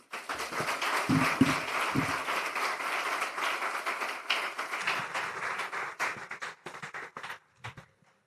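An audience applauds at the close of a presentation at a sustainable finance summit, a steady dense patter of many hands that holds for several seconds, then thins into scattered claps and fades.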